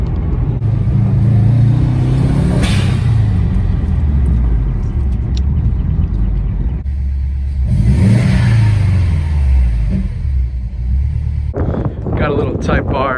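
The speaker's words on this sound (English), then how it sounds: "Gotta love that turbo flutter." A Honda Civic Type R with coilovers and Brembo brakes revs and accelerates on the road, a loud close engine roar rising and falling, ending in quick turbo flutter chatter, with a voice talking over it.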